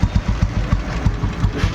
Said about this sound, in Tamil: இன்ஜின் பீட்டு எல்லாமே சூப்பராக இருக்குது.